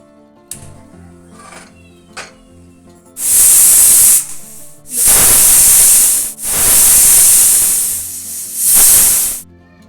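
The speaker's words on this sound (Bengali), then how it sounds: "কুকারটা এটা আমি চারটে সিটি দিয়ে নেব" Loud steam hisses in several long bursts with brief pauses from a pressure cooker venting while cooking pea ghugni with mutton fat, fairly close, with faint clatter beforehand.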